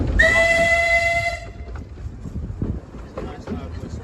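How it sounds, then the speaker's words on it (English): A miniature railway locomotive gives one loud, sustained whistle lasting just over a second, then cuts off, leaving rumbling background noise and faint voices. "Nice loud whistle."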